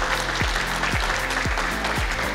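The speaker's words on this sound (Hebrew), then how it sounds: "מחיאות כפיים." A crowd claps steadily at a stock exchange opening ceremony marking B Cure Laser's stock-market listing, a dense, loud wash of applause with a regular low thump beating underneath.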